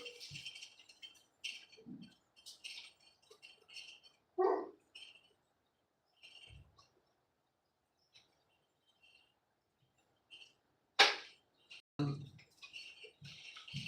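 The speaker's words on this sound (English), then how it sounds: "Neighbor dog is barking." A neighbouring dog barks in scattered single and double woofs at a distance, with quiet gaps between them, mixed with faint bird chirps and a brief murmur of a voice.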